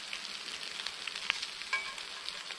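Food frying crispy in a cast-iron pan over a camp stove in the woods, a continuous close hiss and crackle with scattered sharp pops, no voices.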